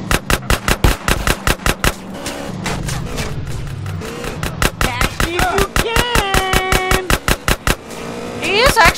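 Rapid video-game gunfire from Grand Theft Auto: San Andreas, dense bursts of loud regular shots with brief pauses, mixed with game effects and chatter in the background.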